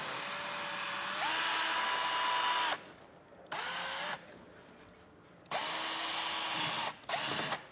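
A power drill bores out a plastic rivet during a hidden hitch receiver install on a 2023 BMW X4, several close whirring bursts with short pauses and changes in pitch between them.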